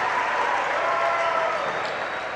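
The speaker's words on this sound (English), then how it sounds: "Getting a round of applause from the East Lincoln fans." East Lincoln fans applaud at a high school basketball game, a steady wash of clapping and crowd noise in a gym, continuous and moderately loud, with a commentator talking over it.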